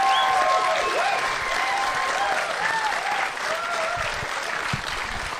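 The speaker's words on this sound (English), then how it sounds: "Can we please have a round of applause?" A comedy podcast audience claps and cheers, sustained applause with a few whoops rising over it, loud at first and easing slightly toward the end.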